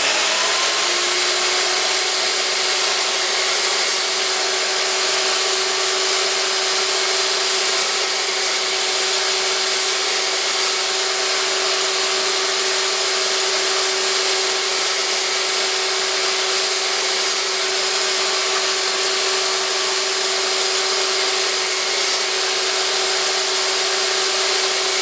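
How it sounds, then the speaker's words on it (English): A power saw cuts steadily through wood, making a loud, continuous, unbroken whirring rasp that holds level throughout with no pauses or speech. "bring it out so that the saw actually cuts a nice level cut"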